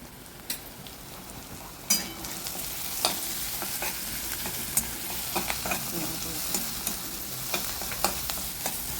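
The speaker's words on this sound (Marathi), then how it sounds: "आता परतते. तेलात जरासं परतून घे." Vegetables with a spoonful of turmeric sautéing in hot oil for a Konkan-style jackfruit bhaji, a steady sizzle under repeated scraping stirs and occasional spoon knocks against the pan, close and continuous.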